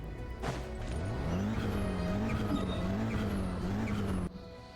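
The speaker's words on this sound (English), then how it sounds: "It's a car." A car in the video game Genshin Impact drives past with a steady, loud engine hum rising and wavering in pitch for about four seconds, then cuts off abruptly.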